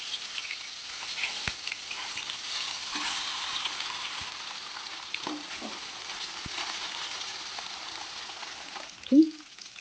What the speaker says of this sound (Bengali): এবার আমি সেই মাছগুলো ভেজে নেব। এবার আমি এক পিঠটা উল্টে দেবো।